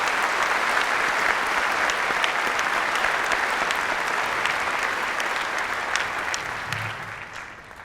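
Sustained audience applause fills the hall at a high school graduation ceremony, steady and dense from start to finish, then thinning slightly toward the end.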